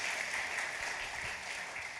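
An audience at a talk about Lincoln applauding, a steady, fairly faint wash of many hands clapping that lasts the whole brief moment.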